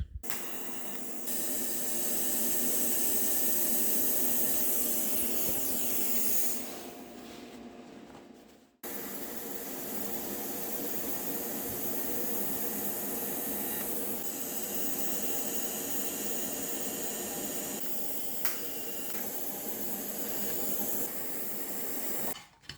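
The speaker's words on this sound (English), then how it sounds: "The next thing I have to do is to weld on the adjustable feet." Steady continuous crackle and hiss of welding as adjustable feet are welded onto a steel pedestal roller in a workshop, running in two long passes with a brief pause between them.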